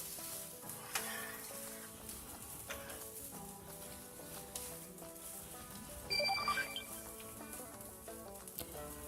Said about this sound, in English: I mix it in the oil, I turn it, and I let it fry.